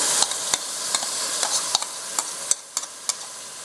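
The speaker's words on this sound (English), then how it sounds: "So now I'm going to add the diced tomatoes which we pureed," Pureed tomatoes stirred into frying onion, garlic and ginger for chicken curry, a steady sizzle broken by sharp, regular spoon scrapes against the pan, close and without talk.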